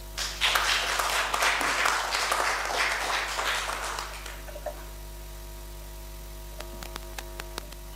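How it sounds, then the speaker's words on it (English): An audience at a law college webinar gives a round of applause, a burst of clapping that lasts about four seconds, then fades into near silence broken by a few faint clicks. "Can you give him a round of applause?"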